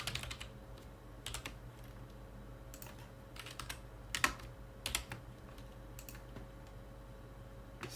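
Light, fast typing on a computer keyboard, sparse clusters of key clicks over a steady low hum, fairly quiet and close, with no voices.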